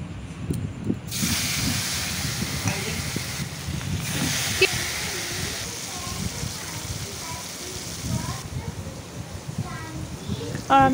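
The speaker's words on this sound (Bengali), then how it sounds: "মাছটা ভাজা করে নিচ্ছি।" Fish fries in a pan at home, giving a steady hissing sizzle throughout with a few crackles while someone talks over it.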